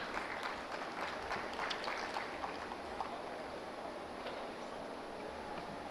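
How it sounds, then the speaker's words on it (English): An audience at a drone expo and conference gives a steady, dense round of applause that fills the whole stretch at an even, moderate level, with no voices standing out. "can we have a huge round of applause for Srimati Bharti Sinha?"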